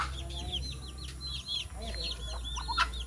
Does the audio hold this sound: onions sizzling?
no